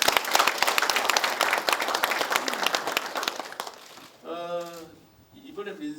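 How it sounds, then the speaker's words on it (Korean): Audience applause at a provincial governor's town-hall meeting in Seongju County, a dense patter of clapping for several seconds that fades out before a voice speaks. "이분들께 또 더 잘해달라는 박수를 한번 보내주시기 바랍니다"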